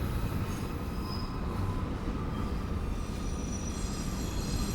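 Rail cars grind by close to a historic Arizona prison, a constant heavy roar with thin metallic wheel screeches threaded through it, loud and unbroken, no talking.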